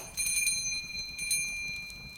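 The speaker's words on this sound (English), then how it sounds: "the brass bell above it gave a soft chime" A brass bell above a shop door chimes softly with a clear ringing tone, struck twice and left to fade gently in a quiet room.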